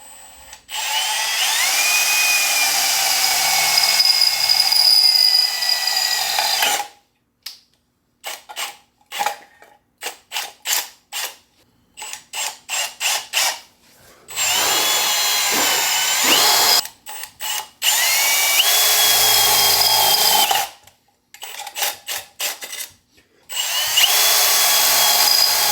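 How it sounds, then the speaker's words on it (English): A power drill bores a hole in a marked mounting spot for a fire alarm horn, whining in several long sustained bursts broken by short stuttering trigger pulses, close and loud with no talk. "So I've marked this out where I want to drill this, so I'll do that now."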